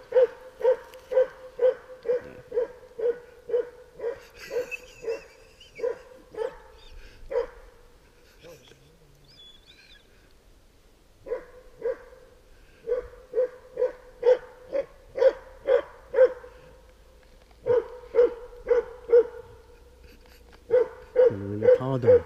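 Several dogs bark in repeated rhythmic bursts, fairly close and loud, with a few quieter gaps and some whimpering, while people talk quietly in the background.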